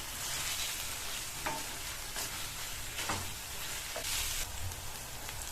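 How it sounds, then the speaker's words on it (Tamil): Bitter gourd being stir-fried in masala on a high flame, a dense steady sizzle with repeated scraping and tossing strokes coming every second or so, fairly close and with no voices. "பாவக்காயை சேர்த்துட்டு ஹை ஃப்ளேம்ல வச்சு நல்லா 2 நிமிஷத்துக்கு இந்த மசாலாலேயே இந்த பாவக்காய் வதங்குற மாதிரி நல்லா இந்த மாதிரி பிரட்டி கொடுங்க"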